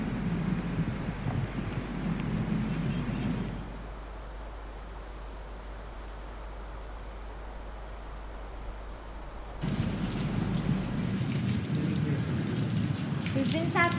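Steady rain hisses down, loud and close, easing to a softer patter partway through before returning at full strength.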